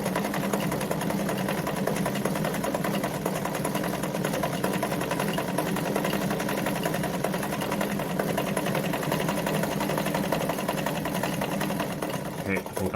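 A Singer model 237 sewing machine runs a zigzag stitch with a steady, fast mechanical whir and a rapid needle rhythm, close and continuous with no pause.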